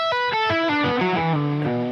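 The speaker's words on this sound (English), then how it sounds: "a standard pentatonic line" A distorted electric guitar plays a quick descending pentatonic run of single notes, each picked cleanly in a steady rhythm, loud and close.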